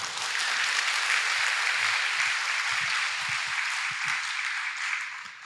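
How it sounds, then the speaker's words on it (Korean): Congregation applauding in a church before a Sunday sermon, dense sustained clapping from many people filling the room for several seconds, then fading slightly at the end. "설교를 시작하기 전에 이렇게 박수를 받았으니"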